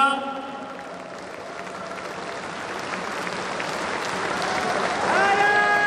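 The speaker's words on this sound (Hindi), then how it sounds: "ताली बजाओ तो इतनी जोर से बजाओ" Crowd applause at a political rally in Rajasthan, honoring the state's chief minister, a broad steady clapping wash that swells louder toward the end, with a voice and tonal sound rising over it in the final second.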